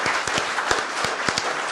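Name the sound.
audience applause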